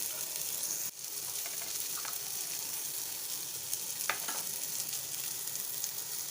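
Onion, tomato, coriander powder and red chilli sauté in a pan for a spicy prawn masala, giving a continuous hiss of frying with a few light stirring clicks, moderately loud and close, with no one speaking.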